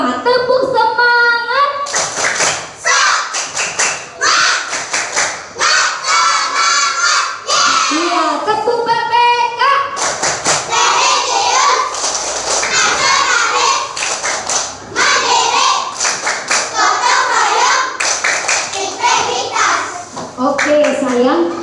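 Schoolchildren in a classroom perform rhythmic clapping chants, loud group voices chanting in unison with bursts of synchronized hand claps, the patterns repeating in short sections.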